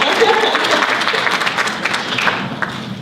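Students and families at a high school National Honor Society induction break into brief clapping, a short burst of many hands that starts strong and thins slightly over three seconds, close and fairly loud.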